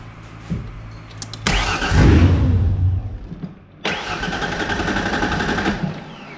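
A 1994 Ford Ranger with a swapped-in 4.0 OHV V6 and a fuel problem cranks and catches, running roughly up close. It briefly dies, then fires again and settles into a steady, loud idle.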